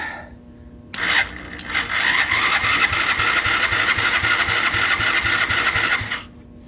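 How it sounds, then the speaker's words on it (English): A BMX 110 four-wheeler engine cranks over with the starter, a loud rhythmic churning of steady pulses lasting several seconds after a short quiet lead-in, then stopping, without catching and with no talking. "let's go ahead and let's just crank her up a little bit."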